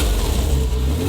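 Porsche Boxster S with a 3.2-litre flat-six engine accelerating hard, a loud, dense, steady engine roar filling a short burst with no voices.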